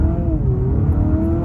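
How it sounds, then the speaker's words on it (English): A Honda Civic Sport Touring hybrid sedan in sport mode launches at wide open throttle from a standstill. A continuous loud engine and motor whir rises in pitch as it accelerates, with no voices over it. "Let's do a wide open throttle from 0 miles per hour."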